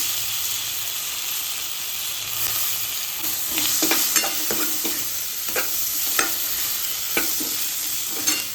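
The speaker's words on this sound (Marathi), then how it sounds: "हे असे तेलात फ्राय केले बटाटे" Potato slices frying in oil and stirred in a pan, a loud steady sizzle with repeated scraping strokes and small taps of the spoon, close up and with no one talking.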